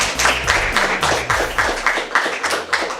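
Applause for a team at a school quiz competition: a steady patter of many hands clapping throughout, with a low tonal sound underneath.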